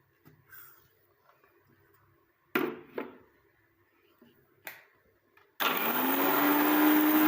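A mixer grinder whirs in short bursts while powdering black cumin seeds and other ingredients, a few brief pulses first, then a loud continuous grinding run at the end; no one speaks.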